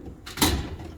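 A drawer on a US General full-bank tool cart slides open with one short metallic rolling whoosh, close and fairly loud. No voices.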